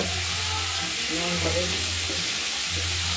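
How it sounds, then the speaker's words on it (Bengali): Flat beans sizzle and spit in hot oil, a steady close frying hiss that carries through the whole stretch, with faint stirring noises beneath it. "শিমগুলো আমরা প্রথমে তেলটা গরম হয়ে গেছে, ভেজে নিচ্ছি"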